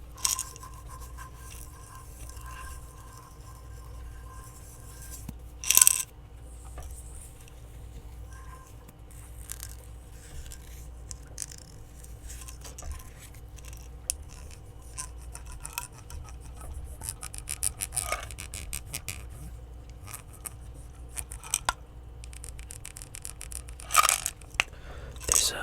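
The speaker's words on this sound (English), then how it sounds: "There's a kind of like a little ridge on the edge of this jar that I'm just playing around with." Fingertips rub and tap along the small ridge on a jar's rim, making soft, close crackly scrapes with a few sharper clicks, all quiet and without talk.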